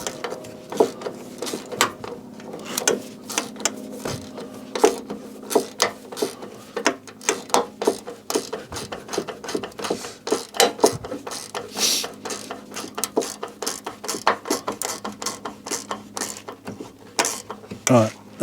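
Bolt being tightened on the front wing of a Fiat 500 under repair, with repeated close ratcheting clicks and metallic taps in quick bursts, over a steady workshop hum.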